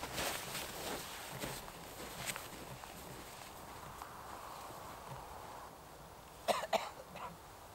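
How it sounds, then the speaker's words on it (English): A person coughs faintly outdoors, with a few soft coughs early on and a sharper cluster near the end, set against quiet background noise and what could be footsteps. "My bones hurt when I cough."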